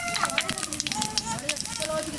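Dried red chilies and panch phoron spices crackle and sizzle in plenty of hot oil in a home kitchen, a close, steady frying hiss with small pops while someone talks over it.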